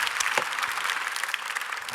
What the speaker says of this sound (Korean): 김 장로님께 감사의 박수하겠습니다.